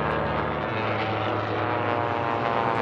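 Propeller-driven racing biplane in a national championship air race, its engine drone steady and loud through the whole stretch, with a deeper tone settling in partway as it passes.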